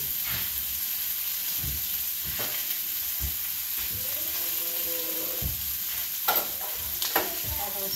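Spoon stirring country grits in a pot on low heat, a steady scraping churn with periodic strokes against the pot and a couple of sharper knocks near the end; no talking.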